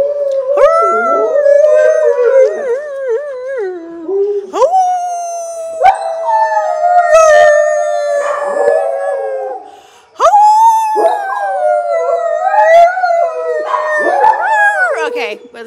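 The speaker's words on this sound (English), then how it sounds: "Okay, yeah, I like singing with dogs." A pet dog howls along with a person singing. Long, wavering howls and voice swell together in three close, loud bursts, separated by brief breaths.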